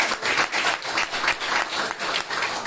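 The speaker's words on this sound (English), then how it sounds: "So for this Prabhu, I want to do a clapping one time." Audience clapping at a religious gathering, dense continuous applause from a crowd, fairly close and steady, with a slight rhythmic swell.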